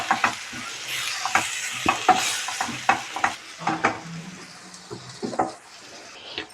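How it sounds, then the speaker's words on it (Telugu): A mushroom fry with chopped coriander tossed in a pan, a spatula scraping and tapping in brisk irregular strokes over a soft sizzle, close and fairly loud with no one speaking. "కట్ చేసుకున్న కొత్తిమీర వేసుకొని ఒక్కసారి మొత్తం మిక్స్ చేసుకొని"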